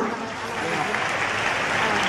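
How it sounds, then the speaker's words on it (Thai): Audience applauding a teacher being honoured at an event in Bangkok, a steady wash of clapping throughout, with a voice faintly under it. "ขอเสียงปรบมือให้กับอาจารย์ด้วยนะคะ"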